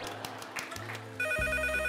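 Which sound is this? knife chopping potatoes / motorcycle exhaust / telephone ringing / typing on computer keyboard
telephone ringing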